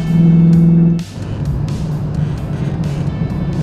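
Audi R8 Custom Design with a 4.2-litre V8 engine heard from inside while driving: a loud steady engine drone that drops sharply into a softer, broader rumble partway through, with no talking.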